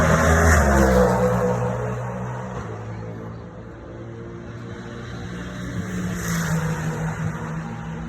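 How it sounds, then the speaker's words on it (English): BMW M4 race car of the Turner Motorsports team during IMSA qualifying, its engine droning loud and steady with swelling revs and a shifting pitch as it passes, no talk over it. "Turner Motorsports entry. It's the BMW M4."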